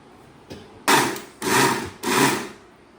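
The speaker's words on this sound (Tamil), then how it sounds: "இந்த தக்காளி பழமும் போட்டு நைஸாக அரைச்சிக்க வேண்டியது தான்" Mixer grinder pulsing tomato with wheat rava and poha into dosa batter: a faint tap, then three loud roaring bursts of about half a second each, spaced by short pauses.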